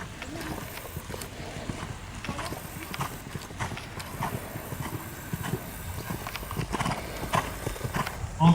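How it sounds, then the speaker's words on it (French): A horse canters through a dressage test: steady rhythmic hoofbeats thud close by over the arena for the whole stretch, with a voice calling out movements over them. "Entre M et F, développer quelques foulées de galop."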